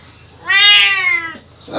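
A cat at an animal shelter gives one long, drawn-out meow close by, loud and clear, and a person starts speaking just after it ends.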